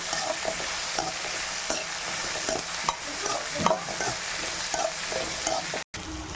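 Brinjal pieces sautéing in hot oil for a biryani-style gravy, a steady sizzle punctuated by repeated spoon scrapes and stirring clatter close to the pan.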